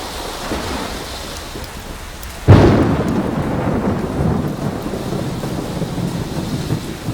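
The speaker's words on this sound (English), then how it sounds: "I'm not scared of a little thunder and lightning." A sudden loud thunderclap cracks during a thunderstorm, then rumbles on over steady heavy rain falling throughout, with no voices.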